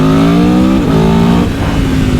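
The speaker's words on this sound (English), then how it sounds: "As you roll on the throttle, this thing just" An Italian sports touring motorcycle engine revs hard under acceleration, a loud close growl climbing in pitch, then dropping sharply as a quick-shifter gear change hits before pulling up again.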